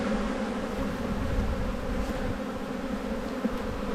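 Honeybees in an opened hive during spring buildup give off a dense, continuous droning buzz, close and steady throughout with no talk.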